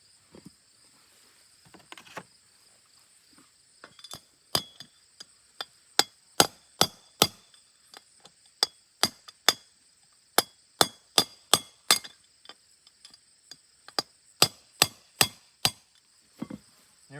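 Sharp metallic hammer strikes ring out on a greasy bearing stuck on a hay tedder shaft, sparse at first and then a fast, evenly spaced series of loud close blows, with no talking.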